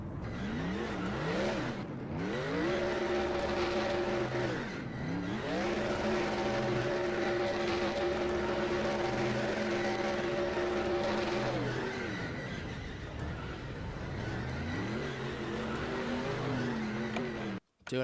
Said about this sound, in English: Doing an incredible burnout there